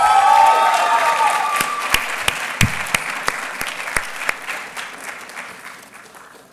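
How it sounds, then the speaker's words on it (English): Applause at a medical school white coat ceremony, starting as a broad round of audience clapping that fades away, leaving a few sharp, isolated claps that trail off into near quiet. "Yes, a round of applause."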